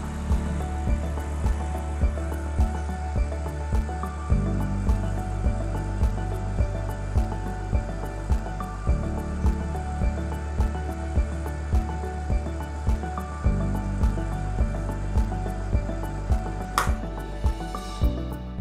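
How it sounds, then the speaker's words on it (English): Sage Bambino Plus espresso machine during a cleaning cycle, water flushing through the solenoid into the drip tray with a rhythmic pumping pulse and low hum, ending in a brief hiss near the end. "that was the water being flushed through the solenoid directly into the drip tray"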